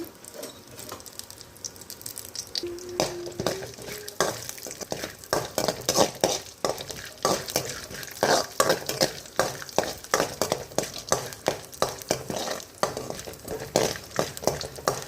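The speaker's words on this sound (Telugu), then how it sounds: "కొంచెం అయితే పల్లీలు కొంచెం కరిపాకు వేసుకొని దీని అయితే బాగా మనం వేయించుకుందాం ఇప్పుడు" Peanuts and curry leaves fry in hot oil while a spoon stirs them steadily, giving a close, continuous sizzle punctuated by rhythmic scraping and clinking against the pan.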